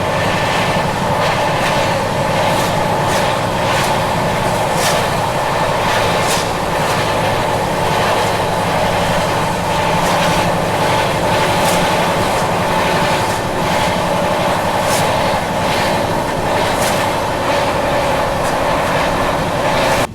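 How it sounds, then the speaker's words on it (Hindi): A Swarna Jayanti Express train runs while overtaking the Varanasi City–Jodhpur Marudhar Express, a steady loud rumble with rhythmic wheel clatter and repeated clicks from the rails, continuous for the whole stretch with no voices. "अभी हमारी train Varanasi city Jodhpur Marudhar express को ओवरटेक करने वाली है"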